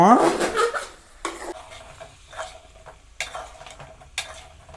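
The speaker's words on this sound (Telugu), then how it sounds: "మనం కడిగి పెట్టుకున్న సొరకాయ ముక్కలు అండ్ మునక్కాయ ముక్కలునే కదా ఇవి వేసుకుందాం ఒకసారి కలుపుదాం" Pieces of bottle gourd and drumstick are stirred into a pot of sambar. A spoon scrapes and knocks against the pot over a soft sizzle, with several separate stirring strokes close by.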